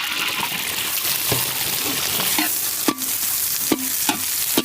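Chopped onions sizzle and crackle in hot sesame oil while a utensil stirs, with several sharp scraping clacks against the pan near the end.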